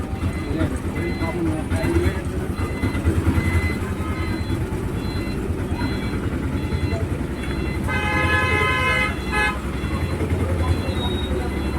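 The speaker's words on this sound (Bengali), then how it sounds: "ট্রেন ঢুকলো" A train rumbles steadily into a station with a horn tooting over the noise, while people on the platform talk nearby throughout.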